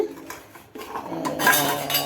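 A metal spoon clinks and scrapes against dishes, a few light taps followed by a louder, busier rattle of kitchenware.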